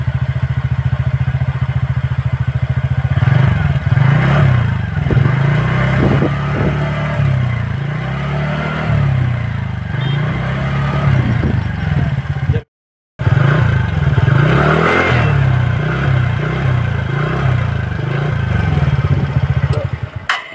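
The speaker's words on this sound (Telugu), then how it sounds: "ఒకసారి ఆ ఇంజన్ సౌండ్ అయితే చూడండి ఎలా ఉందో." A TVS Ntorq Race XP scooter engine runs close by with a beating idle, rising repeatedly into loud revs and falling back, with clattering thumps and a brief dropout midway.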